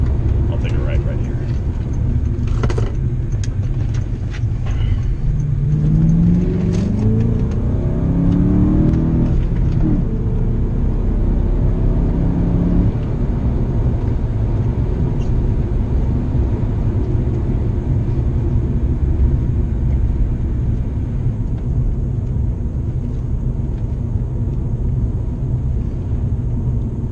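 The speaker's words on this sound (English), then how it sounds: "Engine pulls so strong" A VW W8 with a six-speed gearbox and Remus exhaust drives along with a steady low engine drone, rising briefly in pitch as it accelerates through a gear, heard from inside the car.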